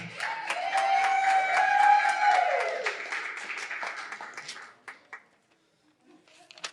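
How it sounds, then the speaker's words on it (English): Wedding guests applaud the maid of honor Kelsey, a loud burst of clapping and cheering at a reception that tapers off over several seconds into a few scattered claps before quiet. "Let's give Kelsey a big round of applause."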